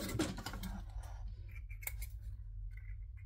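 Scissors trimming thread tails while sewing a fabric bag, with a few close, crisp snips and a soft scratch of thread, quiet and alone with no talk.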